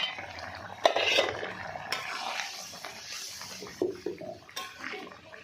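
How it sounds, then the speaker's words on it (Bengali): Metal lid lifted off a pot of simmering fish curry with cauliflower and potato in a home kitchen, giving a few close clinks and clatters over a bubbling, steamy background. "ঢাকনা খুলে নিচ্ছি।"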